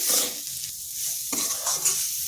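Spices and magic masala being mixed into a sizzling pan of a flour-based dish, a bright frying hiss broken by a few scraping stirs, close and moderately loud.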